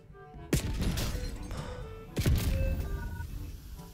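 Sniper gunfire in Call of Duty Warzone: two sharp, loud cracks about a second and a half apart, each followed by a ringing, rumbling tail, with faint game tones between them.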